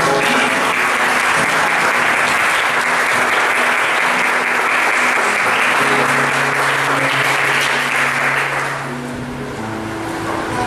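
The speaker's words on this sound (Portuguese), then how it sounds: "dê uma salva de palmas para essa palavra" Sustained applause from a church congregation during a sermon, a dense wash of many hands clapping steadily for about nine seconds before thinning out into scattered claps.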